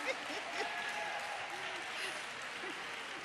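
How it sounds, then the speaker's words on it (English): Applause from an audience at a town hall budget meeting for seniors, a steady broad wash of clapping that lasts the whole moment at moderate loudness. "So you can applaud him again"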